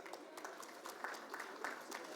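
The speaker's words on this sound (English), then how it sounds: "Let's give him a more energetic round of applause." Audience applause for an Indian Railways RDSO executive director welcomed onto a dais at a presentation, soft and steady with scattered clap bursts, fairly quiet and distant in a hall.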